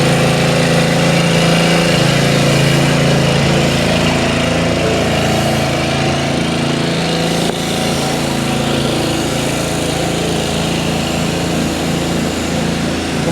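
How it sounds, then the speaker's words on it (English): A hot-air roofing welder runs steadily while welding cover strips on a PVC roof, producing a constant loud blowing drone with a mechanical hum underneath and no talking. "Well, we're welding some cover strips."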